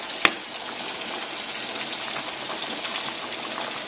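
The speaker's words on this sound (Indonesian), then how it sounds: "soalnya ini hujan." Rain falls outside in a steady, close hiss of drops, with one sharp click near the start.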